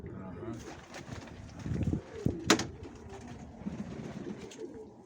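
Pigeons cooing in a loft in Mykolaiv, soft low coos close by amid rustling and a few knocks, with someone talking quietly over them.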